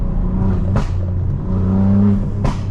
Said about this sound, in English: if I blip the throttle a little bit, look